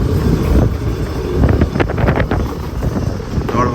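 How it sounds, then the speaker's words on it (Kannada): Cold wind gusts hard across a beach during heavy rain and thunder, roaring and buffeting the microphone loudly and continuously throughout. "ಫುಲ್ ಎಂಥ ಕೋಲ್ಡು ಗಾಳಿ ಬರ್ತಿದೆ ನೋಡಿ ಇಲ್ಲಿ ಅಲ್ವಾ"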